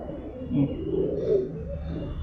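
A Madras pigeon coos close by, a low soft rolling call repeated a few times, with little else around it.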